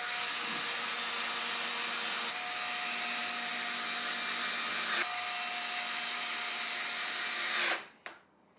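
A power drill drives screws into a workbench frame with a long, continuous high whine that shifts pitch slightly twice, then cuts off abruptly near the end.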